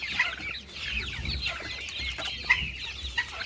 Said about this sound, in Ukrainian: Це скоріш за все півник.